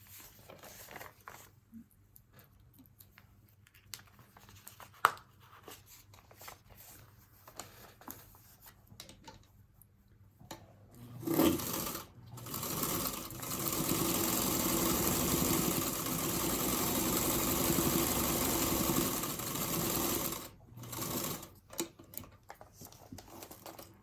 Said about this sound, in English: going to sew the longer piece, making sure we're at least a 1/4 inch beyond those outside lines